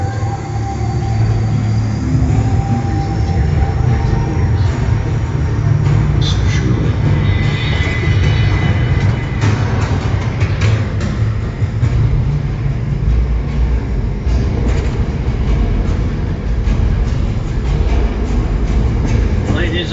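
A Universal Studios tram ride rolling along, with a loud, continuous low rumble of wheels and motor and some clanks and rattles over it, plus faint voices in the background.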